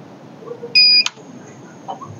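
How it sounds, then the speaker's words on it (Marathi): A POS machine's single electronic startup beep sounds sharply, a steady two-tone chirp lasting about a quarter second, followed by a click against a quiet background. "एक बीपचा आवाज आल्याच्या नंतर पॉज मशीनला बटनाला सोडून द्यायचा आहे."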